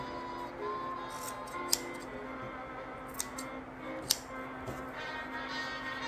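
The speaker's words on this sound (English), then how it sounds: "And then I just cut off the remaining part of that tail." Scissors snipping the tail of a coaster cord indoors, a few faint, sharp clicks spaced apart against a quiet room hum.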